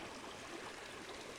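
The River Frome in the Dorset countryside near Frome St Quintin, close to its source and flowing well, giving a steady close broadband rush of running water with no breaks.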